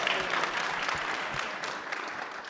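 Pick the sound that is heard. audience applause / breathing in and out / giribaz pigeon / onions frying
audience applause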